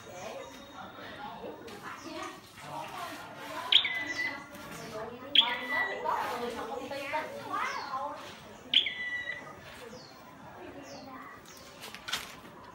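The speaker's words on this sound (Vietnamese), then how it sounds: "Con này nó là chim chuyền lỡ nha." Small songbird in a cage gives a few sharp, bright chirps spread across the stretch, close and clear, while a person talks throughout.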